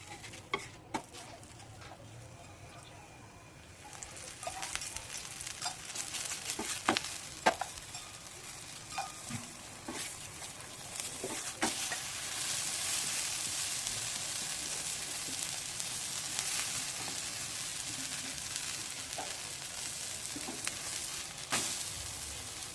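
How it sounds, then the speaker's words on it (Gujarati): Stuffed cheese and corn paratha roasting on a hot tava over low heat, giving a steady soft sizzle with scattered faint ticks and scrapes that grows fuller and denser partway through, with no talk. "તવો ગરમ કરીને ધીમી આંચ પર આપણે પરાઠું શેકી લઈશું"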